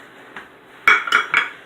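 A spoon mixing crushed pineapple with juice in a bowl, three or four quick clinking scrapes of utensil against dish, close and moderately loud.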